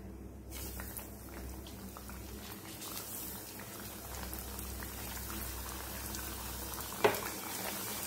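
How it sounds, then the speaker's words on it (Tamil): Snacks fry in hot oil in a pan on a stove set to medium-high, a steady dense crackle and bubbling sizzle close by, with a brief sharp clink partway through. "பொரிக்க ஆரம்பிச்சிடலாம்."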